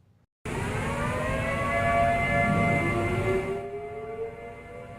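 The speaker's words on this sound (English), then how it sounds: "These are tornado sirens howling in Clovis." Tornado sirens in Clovis wail with a steady rising and falling howl. They are loud and sustained for several seconds, then fade slightly near the end.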